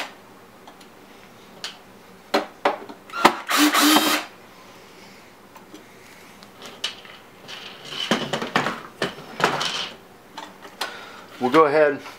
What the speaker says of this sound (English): Then remove the two screws on the metal plate.